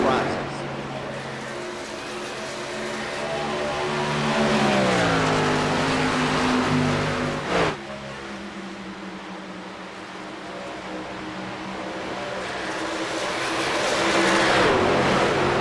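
Race cars in a VSpeed Contender Series event roar around the track in a steady lap, engines rising and falling as they pass, with a sharp mechanical crack midway and race commentary running over the top.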